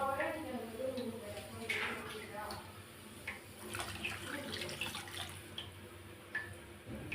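Tamarind water pouring and splashing into a cooking pot, a steady running wash with faint clinks, heard under a person talking.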